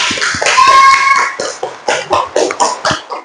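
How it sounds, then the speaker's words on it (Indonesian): Schoolchildren in a classroom clap their hands. A burst of mixed noise and voices comes first, then a run of about seven separate, loud, fairly evenly spaced claps close by. "beri tepuk tangan dong"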